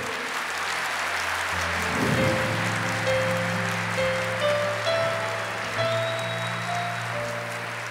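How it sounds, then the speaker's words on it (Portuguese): Church congregation applauding steadily, the clapping a broad wash under sustained organ or keyboard tones that continue throughout. "Pode aplaudir para valer."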